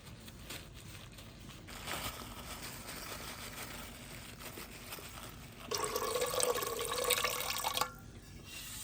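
Pounded jaggery is stirred into water in a village kitchen. Faint, quiet sloshing and dripping gives way to a louder burst of liquid splashing toward the end.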